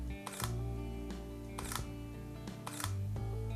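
A Sony A9 mirrorless camera fires its mechanical shutter three times at a steady pace, each release a sharp, close mechanical snap over a constant tonal background hum.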